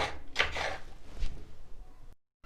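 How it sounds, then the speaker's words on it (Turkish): Several crisp knife chops hit a cutting board in quick bursts as peppers are cut, close by, followed by a few softer taps before the sound cuts off. "Bu şekilde bütün biberlerimizi doğrayalım ve hazırlayalım"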